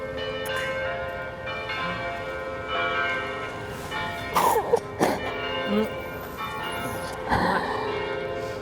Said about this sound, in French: Bien, écoutons la cloche.